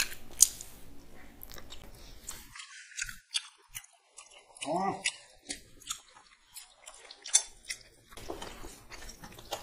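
Chicken skin from a curry being chewed close to the mic, with wet squishy bites and soft crunches scattered irregularly, alongside brief sounds of someone eating with rice.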